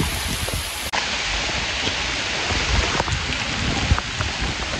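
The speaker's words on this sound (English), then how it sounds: "The rain is real." Steady rain falling in Amsterdam, heard from under a tree, a dense close hiss of drops on surfaces that continues without a break.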